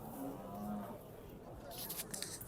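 At a livestock show, a cow gives one long, low moo up close, followed by crowd noise and faint voices from the busy hall.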